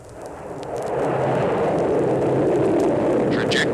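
A 1962 record's rocket launch sound effect: a loud, broadband roar that swells over the first second and then holds steady and sustained with no talk.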